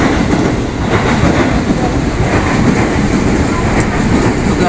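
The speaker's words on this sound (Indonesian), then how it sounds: "Nih, bentar lagi kereta lewat itu." A train rumbles past near Kalimantan station, loud, close and steady throughout with a dense low roar and faint rhythmic clatter.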